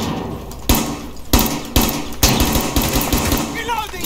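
Gunfire in Rainbow Six Siege: loud, close bursts of shots crack out at irregular intervals, a handful of sharp volleys over a few seconds.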